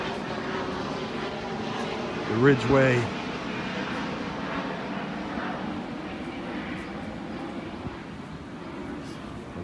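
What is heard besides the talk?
private jet flying overhead near Naples airport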